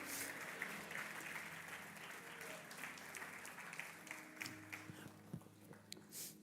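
A church congregation applauds together, sustained clapping at a moderate distance with a few louder individual claps near the end.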